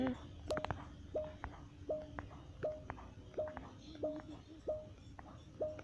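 About nine short phone keypad tones beep at an even pace, fairly quiet over a low hum of background noise.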